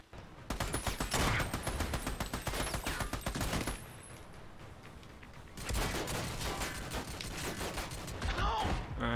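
Dense bursts of automatic gunfire from the video game Army of Two, rattling loudly and almost nonstop across the whole stretch with one brief lull in the middle.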